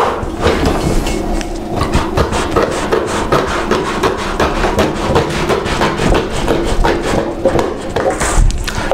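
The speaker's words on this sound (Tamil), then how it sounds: "சிசரால் ஸ்ட்ரெயிட்டாக கட் பண்ணிங்க" Scissors snip straight across a plastic film roll sheet being trimmed to size for a homemade photo frame, a steady run of close, rapid scraping cuts with no pauses.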